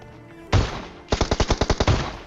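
Shotgun blasts in a shooting video game, one sharp loud shot followed after a pause by a rapid burst of about nine evenly spaced booming shots, close and dominant with no talk.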